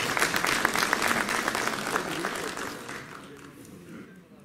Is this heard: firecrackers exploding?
no